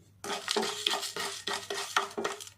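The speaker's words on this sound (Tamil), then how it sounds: "அதில் இப்போ அடுப்பில் போட்டு நம்ம அப்படியே கிண்டி இறக்கிடலாம்" Homemade rasam spice powder stirred in a pan on the stove, a spoon scraping and clinking against the metal in a steady rhythm of about seven strokes, close and clear with no voices.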